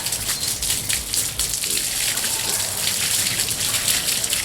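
Running water splashes and gushes steadily while a dog is bathed, a continuous close wash of spray and drips with no talk.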